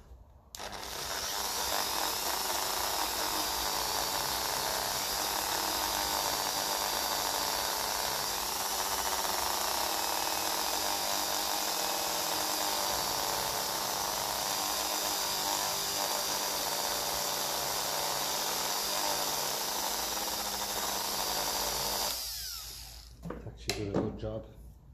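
Power tool polishing a Lucas starter motor part for a Ferguson 20 tractor, giving a loud continuous whine and hiss that runs unbroken for over twenty seconds before stopping with a few clatters.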